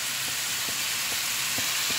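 Chicken and capsicum sizzle steadily in a frying pan, a constant bright hiss broken by a few regular scraping strokes as the pieces are stirred, close and alone.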